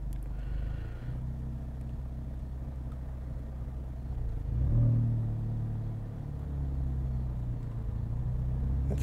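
A manual transmission car pulls away in first gear as the clutch is let out, its low engine rumble swelling briefly with a little gas and then settling into a steady idle-like drone, nearby and without speech.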